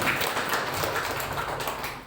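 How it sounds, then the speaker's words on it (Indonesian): During a Sunday morning worship service, a church congregation claps together in a full, continuous burst of many hands at moderate loudness, steady throughout with a slight surge at the very end. "Tepuk tangan untuk Tuhan kita yang baik"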